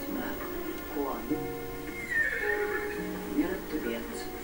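A horse in a video game whinnies, with several neighing calls over a steady background hum, moderately loud and close.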